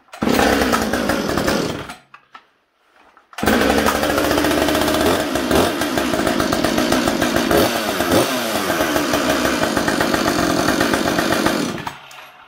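A Husqvarna chainsaw started cold with no choke roars loudly for about two seconds, cuts out briefly, then catches and runs hard at a steady, loud idle and rev for most of the clip before dropping off at the end.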